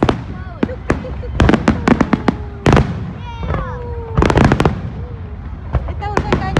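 Fireworks exploding in Hawaii, with many sharp, loud bangs and crackling bursts in quick irregular succession, some whistling trails between them, close and echoing, while people talk and exclaim over the noise.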